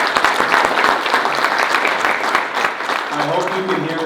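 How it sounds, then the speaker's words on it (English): Enthusiastic applause from a forum audience for the Attorney General, a dense, even clatter of many hands that holds steady for several seconds before easing slightly, with a voice briefly audible near the end. "I hope you can hear the applause"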